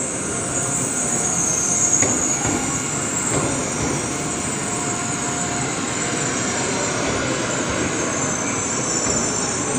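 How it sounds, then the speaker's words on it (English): A Shinkansen bullet train rolls into a platform at Tokyo station, its loud, steady rumble with a high wheel whine filling the station. A few faint squeals come near the start. "The 233 service bound for Shin Osaka is now arriving into platform 14."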